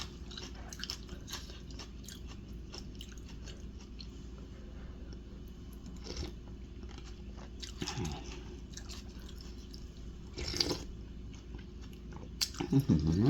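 Someone eating noodle soup, with soft, irregular chewing, slurping and crunchy bites close to the microphone, quiet and steady throughout with no talk.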